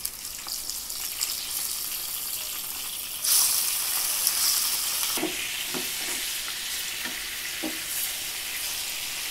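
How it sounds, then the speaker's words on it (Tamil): Fish pieces fry in hot oil in a pan, a continuous close sizzle that flares louder briefly, with a few soft knocks of a utensil against the pan. "இப்போ மீன் 2 பக்கம் நல்லா வறுபட்டுருச்சு."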